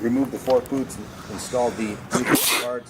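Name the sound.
sneeze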